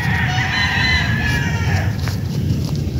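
Roosters crow at the MGM Game Farm in Montalban, Rizal, with drawn-out calls and some clucking over steady background noise and a constant high-pitched hum.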